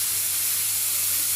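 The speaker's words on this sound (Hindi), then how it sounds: "अब इसकी हवा सारी निकल जाएगी" A kitchen pressure cooker used for cooking nihari releases its steam in a steady, loud, continuous hiss throughout, close by with no talk.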